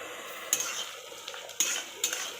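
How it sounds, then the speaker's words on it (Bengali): Potatoes are stirred with turmeric and chili powder in a pan, with a spoon scraping and knocking against the metal three times among a low, steady frying hiss. "আমি সুন্দর করে ভালোভাবে এই মশলাটার সঙ্গে মিক্সড করে নেব"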